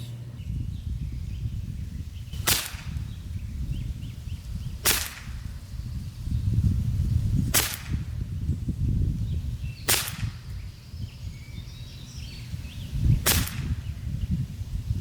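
Glock 17 Gen 5 CO2 blowback pellet pistol in .177 firing super lightweight pellets outdoors: five sharp, loud cracks spaced about two to three seconds apart over a steady background hum, with no talking.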